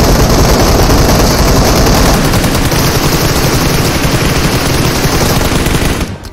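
Sustained automatic gunfire in the mobile battle royale game PUBG Mobile roars loud and dense for about six seconds, with a continuous rapid rattle that cuts off sharply at the end.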